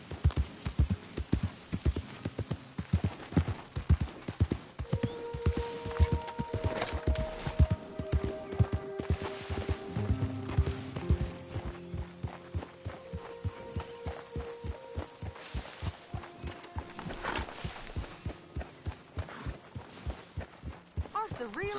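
A horse trots in Red Dead Redemption 2. The hooves make a steady, rhythmic clip-clop that runs throughout, while a game soundtrack hums and sustained tones sit underneath.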